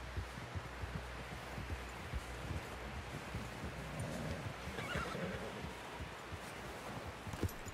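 A horse whinnies faintly in the video game Red Dead Redemption 2, amid soft rustling and shuffling hooves, the sounds low and somewhat distant.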